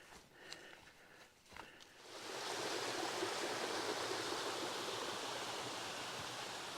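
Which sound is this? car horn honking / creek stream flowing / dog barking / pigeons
creek stream flowing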